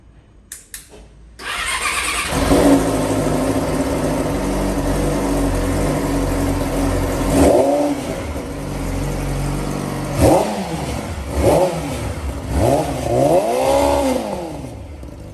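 A Yamaha YZF-R6 sport motorcycle engine cranks and fires up, settles into a loud idle, then is revved several times in sharp rising and falling bursts.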